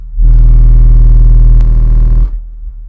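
A loud, deep steady bass test tone from a Resilient Sounds Gold 12 subwoofer hums for about two seconds, then cuts off abruptly, leaving a faint low rumble.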